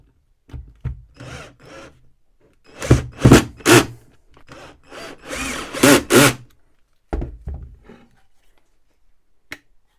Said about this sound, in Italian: proviamo ad avvitarla e vediamo come va